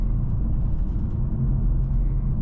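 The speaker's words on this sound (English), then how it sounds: "Traffic, man." Steady low road rumble heard from inside a tuned 700+ hp G30 BMW M550i moving through traffic, a continuous dense drone with no talk over it.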